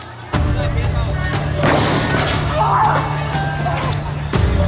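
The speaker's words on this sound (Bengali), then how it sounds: "ঠিক তারা সেই উদ্দেশ্যে আবার আমাদেরকে গুলি করে।" Police gunfire at a street protest in Bangladesh: a few sharp, loud bangs spaced a second or more apart, ringing over a constant low rumble of crowd and street noise.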